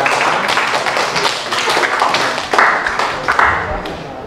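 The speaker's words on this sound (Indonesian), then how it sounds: "Oh, kita kasih tepuk tangan luar biasa ya." Students in a classroom applaud a group's presentation on the plant kingdom, a close, dense burst of clapping that holds steady with a few sharper individual claps and a murmur of voices beneath.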